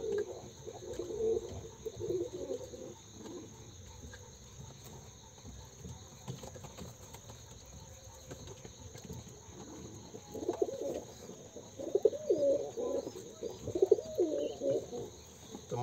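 Pigeons coo softly in low, throaty bursts at the start and again in the second half, with quiet gaps between, heard at a moderate distance over a faint steady background hum.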